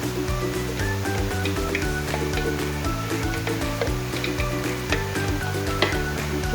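Meat tipped into a pan of half-cooked carrots sizzles steadily while being stirred, a continuous close frying hiss with soft scraping, no voices.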